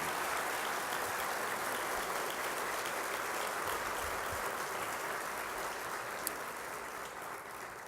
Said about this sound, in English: please stand and get a hand clap